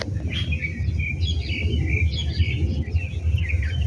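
Several birds chirp and tweet continuously over a low outdoor rumble, their bright calls fairly close and overlapping, near tomato and blueberry plants.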